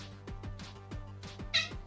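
A cat meows loudly and repeatedly in quick succession, each call short and close by, with a brief thump near the end.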